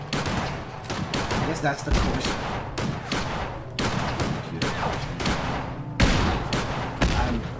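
Automated turrets in the Fallout 4 video game fire in dense, sustained volleys of rapid gunshots, loud and continuous throughout with brief gaps, while someone talks briefly over the gunfire.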